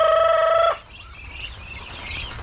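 A rooster's crow rings out loud and close, a strong drawn-out call that ends abruptly, followed by quiet outdoor ambience.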